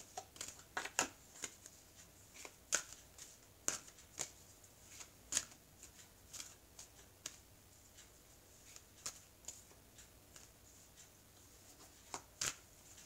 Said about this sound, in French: Alors, je vais couper le jeu. Je pense que je l'ai suffisamment battu.